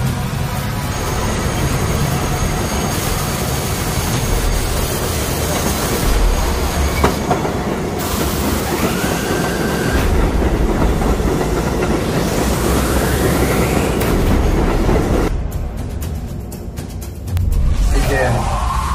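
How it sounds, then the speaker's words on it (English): A subway train crosses a bridge as a radio play effect: loud, continuous rumbling with rhythmic clickety-clack of wheels, rising metallic squeals and hiss, and a brief drop before the roar returns. "a subway train crosses the bridge"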